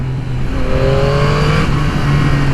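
A 2021 Yamaha MT-09 SP motorcycle engine accelerates hard, its pitch climbing through the revs with a loud, buzzing exhaust, close and continuous.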